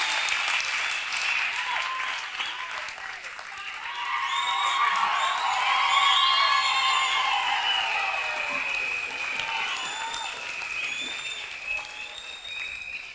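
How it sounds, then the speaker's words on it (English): A church congregation claps and cheers after a student's graduation testimony, a full, sustained round of applause that swells in the middle, with whoops and raised voices mixed into the crowd noise. "Clap for Jesus Christ."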